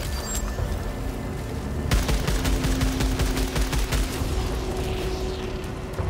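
Rapid automatic gunfire from a weapon in the sci-fi shooter Returnal, a dense stream of sharp shots that starts abruptly and continues steadily for several seconds over game ambience, with no talk.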